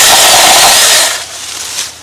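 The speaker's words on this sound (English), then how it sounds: "so handle the branch with one hand and the saw with the other one." Small one-handed chainsaw cutting through a tree branch, a loud close high-pitched buzzing whine that holds steady for about a second, then drops away as the cut finishes.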